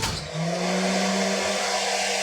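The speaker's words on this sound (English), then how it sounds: "I'm just going to turn on my blow dryer and hold that there and let it dry" A handheld blow dryer blows steadily at close range to dry fresh chalk paint on a primitive wooden shelf, a loud constant whooshing hum that starts after a brief pause and runs on without talk.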